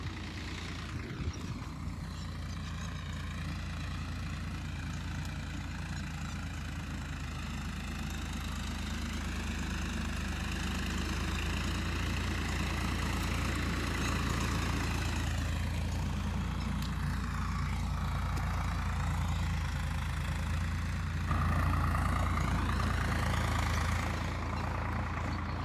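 A Sonalika DI 55 tractor engine idles steadily at a farm site where soil is being hauled, giving a continuous low, loud rumble with constant vibration and no speech.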